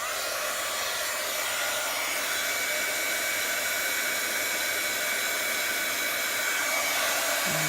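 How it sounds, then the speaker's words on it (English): A heat embossing tool blows hot air in a steady, loud, unbroken whoosh close to the listener, with no talking over it. "So now our heat tool."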